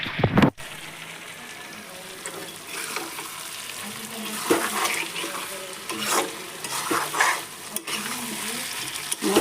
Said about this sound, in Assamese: মই পাঠাটো ভাজি আছোঁ। এয়া পাঠাৰ মাংস।